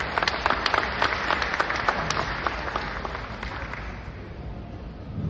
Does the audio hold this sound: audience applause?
yes